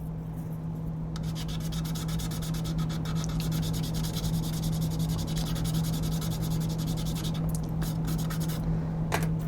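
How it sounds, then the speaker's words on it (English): Hobby model putty from Ammo being sanded, quick repeated scratchy rubbing strokes close to the microphone over a steady low hum, with brief pauses between bursts and no talking. "the ammo putty, not ideal for sanding"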